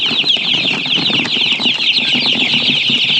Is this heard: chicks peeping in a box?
yes